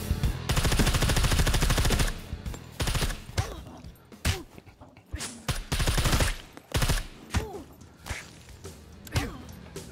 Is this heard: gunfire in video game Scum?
yes